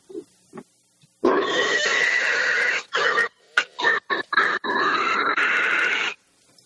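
A woman imitates a hog with her mouth, producing long, loud grunting and squealing calls in several bursts, one sustained stretch followed by shorter choppy snorts, close and clear with no other sound around them.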